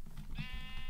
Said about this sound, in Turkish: Bir koyun burada var.